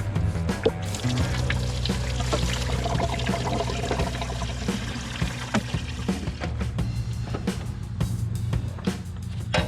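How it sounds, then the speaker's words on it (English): Coolant pours out of a drained car radiator in a steady, fairly loud liquid stream, splashing and trickling continuously with a few small knocks, and no voices. "I've drained the radiator."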